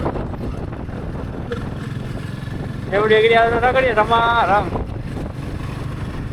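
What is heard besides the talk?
strong wind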